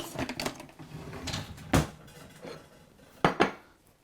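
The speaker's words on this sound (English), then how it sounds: "Let me stir this up a little bit while it cools off." A spoon scrapes and knocks against a pot while heavy whipping cream is stirred over a simmer, with a few sharp metallic clinks standing out among softer clatter.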